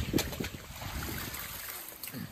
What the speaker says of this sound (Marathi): एवढा जोरात पाऊस आहे